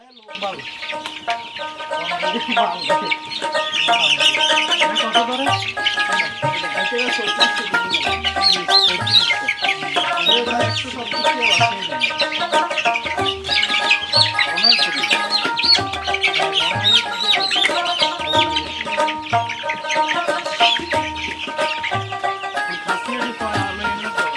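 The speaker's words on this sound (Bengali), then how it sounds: "তো টাইগার মুরগির বাচ্চাগুলো ভান্ডিল বাঁধা হচ্ছে।" Many tiger chicken chicks chirp and peep continuously in a dense, high-pitched chorus, close and loud, with a few low thumps and voices underneath.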